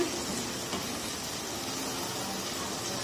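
Meat and potatoes cooking bhuna style in a covered pot, with a dense, steady hiss of frying just after the lid is lifted, loud and close with no talking.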